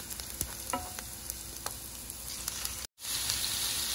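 Meat frying in a pan with onion already sautéed until translucent, a steady sizzle with a few clicks and stirring scrapes, briefly cut by a moment of silence near the end.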